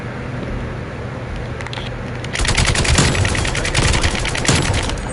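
An automatic gun firing in Call of Duty: Black Ops, a loud sustained burst of rapid shots starting partway through after a quieter game ambience, no talking.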